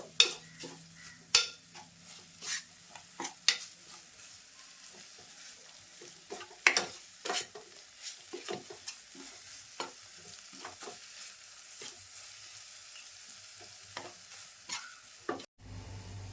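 Masala stir-fried in oil for a prawn and potato gravy: repeated spatula scrapes and clinks against the pan over a soft, steady sizzle, close and with no talking.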